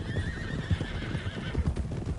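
Horses in the Red Dead Redemption 2 video game gallop with a steady, loud clip-clop of hooves, joined by neighing over a continuous rumble.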